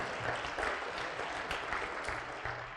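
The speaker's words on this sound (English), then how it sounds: "You can go ahead and clap." At a university president's council dinner, an audience claps in a broad, even wash of applause that stays fairly distant and moderate throughout, with no talk over it.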